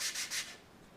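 Sanding a bevel onto a laser-cut wooden glider part, heard as two or three quick abrasive rubbing strokes close up, then a quiet tail.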